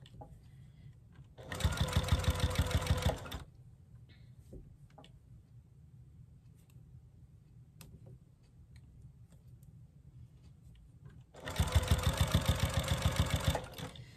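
A sewing machine stitches a seam on a minky baby blanket in two bursts, each a steady, fast mechanical chatter lasting about two seconds, separated by a long stretch of quiet handling with faint clicks.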